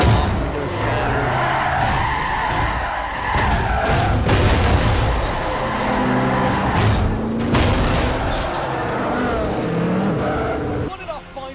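A car in a Battlefield 6 beta match crashes with screeching tires, heavy impacts, side panels tearing off and windows shattering in loud, dense bursts, while someone talks throughout.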